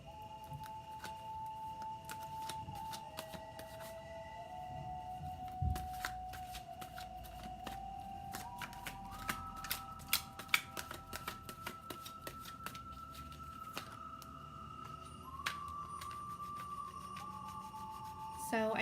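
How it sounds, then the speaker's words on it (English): A deck of tarot cards is shuffled over and over close to the mic, with brisk riffling and soft slapping bursts running steadily throughout and faint tones in the background. "The shuffling that I do on camera is just to get jumpers"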